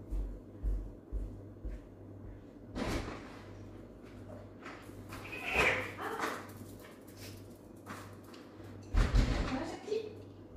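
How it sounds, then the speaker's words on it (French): A female dog at the door wanting to be let back inside gives a few whimpers and short yelps amid thumps and door noises, with a person speaking intermittently. "J'ai ma chienne qui veut rentrer, je vais la chercher"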